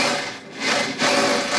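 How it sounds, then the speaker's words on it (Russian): A powerful rotary hammer drill runs in an apartment building, a loud harsh continuous mechanical grinding that briefly eases twice before surging back at full strength. "а тишину взрывает мощный звук перфоратора"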